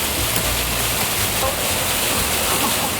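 Rain drumming on the lifted roof of a camper van gives a dense, steady hiss that fills the whole stretch, loud and close, with a low rumble underneath.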